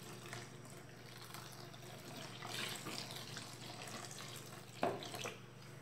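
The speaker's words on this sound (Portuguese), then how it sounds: "Eu vou colocar aqui agora mais um litro de água." Cold water pours steadily into a container while homemade salt detergent is being mixed, a continuous splashing stream with a small clink near the end.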